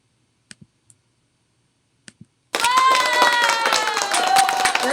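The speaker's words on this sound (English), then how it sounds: "That's our round of applause for the soap cam." Applause sound effect played through a Mac's built-in speakers during a live soap-making stream, a dense burst of clapping and crowd noise that bursts in after a few sparse clicks and runs steadily to the end.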